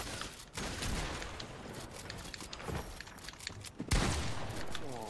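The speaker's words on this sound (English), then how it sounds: "Where am I getting shot?" Dense gunfire in the video game Fortnite, rapid overlapping shots and impacts crowding the whole stretch, loud and close, with a heavier burst near the end.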